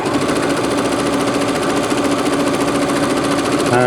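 A Brother PC 6000 sewing machine stitches steadily through multiple layers of fabric, its loud, fast mechanical chatter continuous throughout while the machine bounces slightly on a pop-up ironing leaf rather than a solid table.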